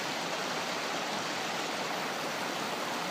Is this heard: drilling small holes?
no